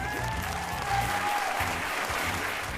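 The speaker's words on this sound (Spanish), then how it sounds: "Un aplauso para ella." Audience applause from a political talk show, steady dense clapping filling the whole moment, moderately loud with a faint tonal whine running through it.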